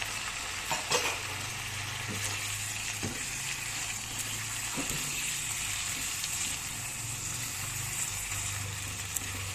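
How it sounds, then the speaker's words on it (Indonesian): Beef and bell peppers sizzle steadily in a hot pan while being stirred, a constant bright frying hiss with occasional soft scrapes of the utensil, close and continuous, no voices. "Nah, setelah itu guys simple, tinggal diaduk-aduk aja"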